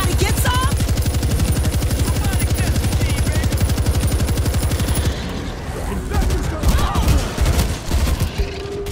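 World War Z machine gun fire rattles in a fast, unbroken rhythm for about five seconds, loud and close, then gives way to scattered shots and bursts amid fainter game noise.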